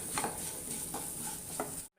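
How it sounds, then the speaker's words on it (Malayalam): Masala with fennel and garam masala roasting in a pan, a soft continuous sizzle broken by a few rhythmic stirring scrapes, close and fairly quiet, ending abruptly in silence. "കുറച്ച് ഗരം മസാല കൂടി ഇട്ടിട്ട് നല്ലോണം ആ പച്ചമണം പോണത് വരെ ഒന്ന് നല്ലോണം മുരിച്ച് എടുക്കാം വറുത്തെടുക്കാം"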